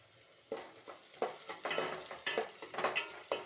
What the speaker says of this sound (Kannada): ಇದೆ ಬೆಂದಾದ್ಮೇಲೆ ಚಿಲ್ಲಿ, ಕಟ್ ಮಾಡ್ಕೊಂಡಿರೋಂಥ ಚಿಲ್ಲಿನ